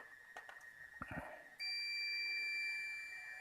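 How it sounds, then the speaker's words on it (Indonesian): A multimeter's continuity buzzer on a Polytron PLM24M61 LED TV repair bench sounds a steady, loud high-pitched tone that starts partway in and holds to the end, after a few light taps and clicks. "Seperti ini, saya menggunakan langsung buzzer."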